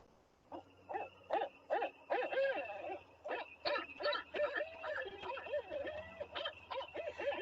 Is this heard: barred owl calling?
yes